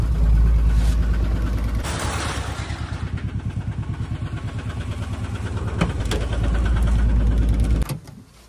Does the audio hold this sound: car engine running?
yes